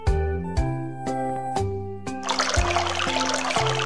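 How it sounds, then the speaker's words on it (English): A toilet flushing in the video game High School Simulator 2018: a surge of rushing, gurgling water starts partway through and continues to the end, fairly loud over steady game music tones. "You can literally flush them little shits into the toilet."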